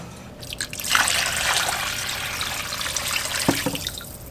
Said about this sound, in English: So before I start this, I need to add water.